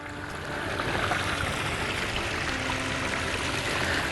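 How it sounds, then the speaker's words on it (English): Water gushing steadily from a battery-powered Gold Cube pump, a loud, close, continuous splashing flow that swells in the first half second and then holds even. "Now we've got water flowing."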